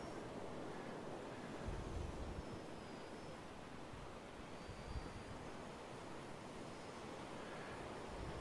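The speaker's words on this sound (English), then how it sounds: "This is too much of a breeze for it today" Steady wind rushes outdoors with a constant low roar and buffeting, continuous and moderately loud, with no voices, at a model plane flying session.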